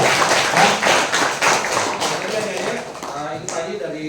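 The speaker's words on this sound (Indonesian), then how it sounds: "kita berikan tepuk tangan dulu" Scattered clapping from a school audience at an orientation session held by SMKN 1 Tolitoli at a junior high school, steady at moderate level, with voices talking and murmuring underneath throughout.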